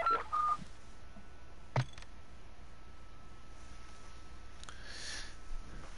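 A phone being dialed in the video game Call of Duty DMZ, a few short faint keypad tones near the start followed by a brief click and quiet background hum.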